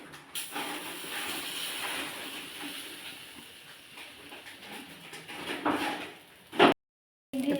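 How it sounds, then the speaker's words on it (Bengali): Eggs frying in oil in a home kitchen while a tiffin meal is cooked: a steady, close sizzling hiss runs throughout, with a louder clatter near the end before a brief silence. "ডিম ভেজে নিচ্ছি"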